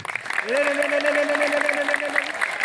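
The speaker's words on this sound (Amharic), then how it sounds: "እስኪ ወንዶች አጨብጭቡ። ወንዶች ብቻ፣" A crowd of men claps steadily at a church service while a voice holds a long sung or spoken tone over the applause.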